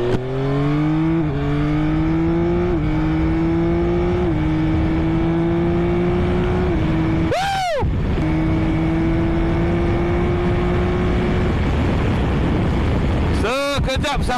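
A Yamaha MT-09 motorcycle, ridden in a 400-metre run, accelerates hard with a loud rising engine note through repeated gear shifts; a nearby vehicle whooshes past twice at close range.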